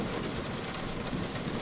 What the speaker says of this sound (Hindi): एक तो इतनी बारिश हो रही है